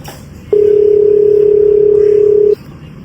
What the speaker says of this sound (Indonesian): Aku mau telepon polisi dulu.